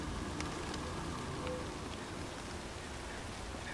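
Faint, even rainfall patters in The Walking Dead: Saints & Sinners, a low continuous hiss of drops with a few light taps, steady and distant throughout.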